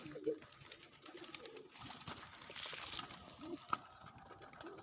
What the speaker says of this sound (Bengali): দেখেন কবুতরটা খাওয়ারের জন্য এখানে চলে আসছে উইরা।